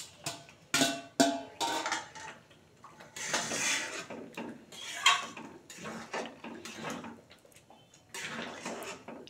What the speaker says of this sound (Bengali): ভাজা ফুলকপিগুলো দিয়ে দিচ্ছি।